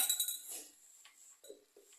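A metal utensil clinks lightly against a pan while stirring chicken thoran after salt goes in, with a few soft scraping taps and short pauses between them, quiet and close.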